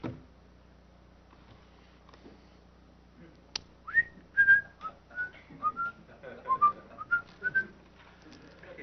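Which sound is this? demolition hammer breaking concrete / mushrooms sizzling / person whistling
person whistling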